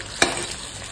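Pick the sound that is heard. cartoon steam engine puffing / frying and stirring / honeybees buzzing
frying and stirring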